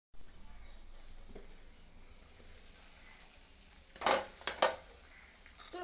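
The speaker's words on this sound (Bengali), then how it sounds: "ঢাকনা দিয়ে ঢেকে দেব। দিলাম ঢেকে।" A lid is set onto a pot of simmering fish curry with a couple of sharp metallic clinks, quiet bubbling and sizzling underneath.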